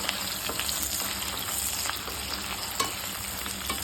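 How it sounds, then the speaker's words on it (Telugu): Dried fish frying in hot oil in a pan for a brinjal curry, a dense continuous sizzle with small crackles and light stirring scrapes throughout, close and even. "కొంచెం ఎర్రగా వేయించుకున్నాము."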